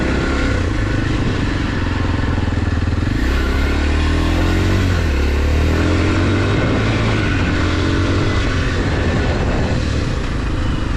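A Kawasaki KLX230 dirt bike engine revs hard up close, pitch climbing and dropping through throttle bursts, loud and rough throughout.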